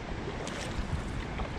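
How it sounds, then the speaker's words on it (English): A canoe paddled across open wilderness water in Canada near falls, with a steady wash of water and wind and no clear separate strokes. "It's actually really nice to be paddling right now at this time."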